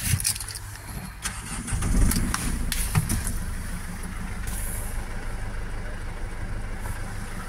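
The diesel engine of a 2017 Mercedes Sprinter 316 4x4 MWB van with low-ratio box cranks and fires up nearby, then settles into a steady idle with a few clanks and a hiss.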